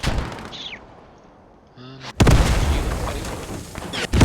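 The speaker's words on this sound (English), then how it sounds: "Something's shooting." Gunfire in Post Scriptum, a quiet lull followed by a sudden loud boom and heavy continuing bursts of shots and blasts nearby, with another sharp report near the end.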